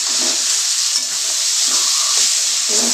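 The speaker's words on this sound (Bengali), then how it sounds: "এবার তো নাড়াচাড়া করে দিয়ে ভালো করে আমি কষিয়ে নেব।" Taro greens cooking with a hilsa fish head sizzle and hiss steadily in a hot pan, with soft scraping stirs close by throughout and no talking.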